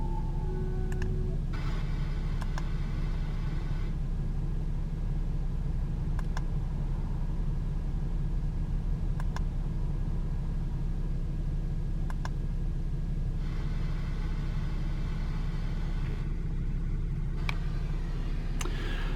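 A 2016 Range Rover Sport 3.0 SDV6 Autobiography Dynamic idles steadily with a low, even hum, accompanied by faint intermittent ticks and clicks.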